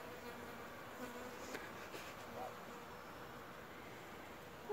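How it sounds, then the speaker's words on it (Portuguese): Bees drone along a rural path near coffee farms in Marilândia, a steady, soft buzzing that fills the background with a few passing insects louder for a moment. "Eu tô bem no caminho das abelhas."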